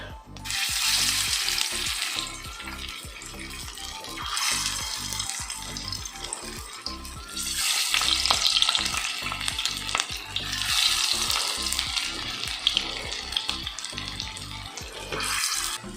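Peas cutlets frying in hot oil, a loud close crackling sizzle that swells and eases in waves across the whole stretch, with a low steady hum beneath and no voices.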